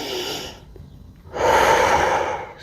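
Deep, steady yoga breathing during a calisthenics session: a long exhale, a brief pause, then a fuller, louder breath close to the microphone, with no talking.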